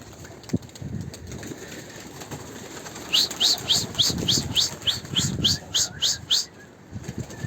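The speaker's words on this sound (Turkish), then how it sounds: "Kuşlar kalktı." Pigeons' wings flap in bursts as they take off while a quick run of about a dozen high, sharp bird calls repeats steadily, close by, over soft outdoor background noise.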